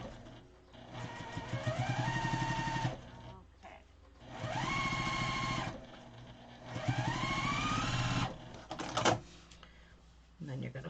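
A sewing machine runs a quarter-inch seam through quilt-as-you-go quilt fabric in three separate bursts of stitching, each with the motor winding up in pitch, separated by brief pauses and a few clunks.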